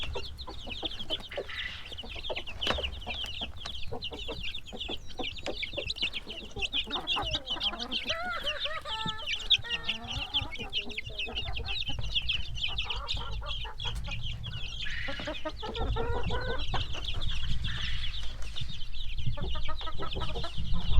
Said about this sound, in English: Look at these little baby hens trying to get in here.